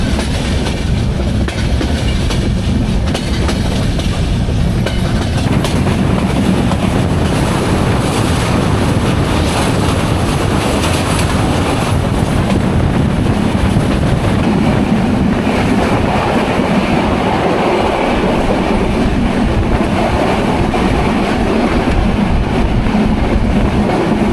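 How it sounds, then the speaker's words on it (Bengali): A train rolls slowly past a bridge under construction, giving a loud, continuous rumble of wheels and carriages with faint rhythmic clatter over the track and no talk. "নির্মাণ কাজ চলছে সেতুর, এই জন্য ট্রেন থামিয়ে আস্তে আস্তে করে আমাদের ট্রেন এগিয়ে যাচ্ছে"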